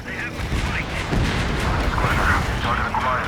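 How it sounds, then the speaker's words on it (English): A hostile bomber exploding in Ace Combat 7: a rumbling, sustained blast with booming artillery-like texture under continuous jet and battle noise, while radio voices talk over it. "Hostile bomber destroyed."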